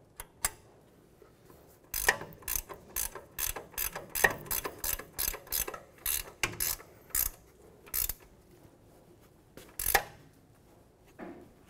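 A ratchet snugs down the ball joint nut on a 2014-2018 Chevrolet Silverado front suspension, a series of quick close clicking bursts in uneven strokes with short pauses between.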